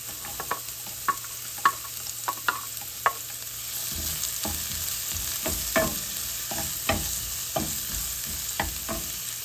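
Cubed carrots sizzle in a pan for a cooking sayote and tofu soup, with a steady fry hiss punctuated by sharp, irregular scrapes and clacks of a spatula stirring; the sizzling swells louder midway.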